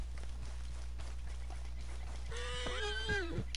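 A startled, agitated horse in the video game Red Dead Redemption 2 lets out a wavering, drawn-out whinny in the last second, after light, scattered hoof steps over a steady low hum.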